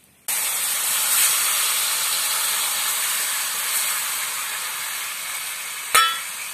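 Fish pieces dropped into hot fried spice masala in a pan burst into a sudden loud sizzle that holds as a steady hiss, with a brief clatter near the end.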